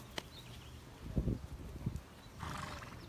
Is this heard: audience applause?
no